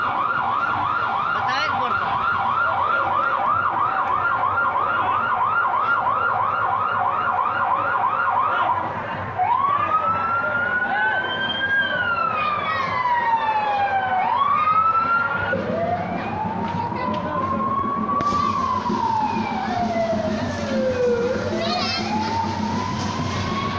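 A loud siren wails and sweeps up and down over steady traffic noise, shifting from a rapid warble to slower rising and falling tones.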